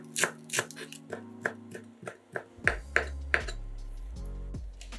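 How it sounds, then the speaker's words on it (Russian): A knife chops a bunch of dill and green onion on a cutting board in sharp, crisp strikes, about a dozen irregular taps close up with brief pauses between. "Пучок укропа и зеленого лука нарезаем небольшими кусочками."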